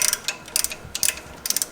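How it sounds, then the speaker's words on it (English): A thread tap is backed out of the metal of a Ford 7.3 Powerstroke exhaust after cutting threads for an EGT probe, making close, intermittent ratcheting clicks in short bursts. "what this is doing is actually cutting threads into the metal itself so you can thread the EGT probe into it"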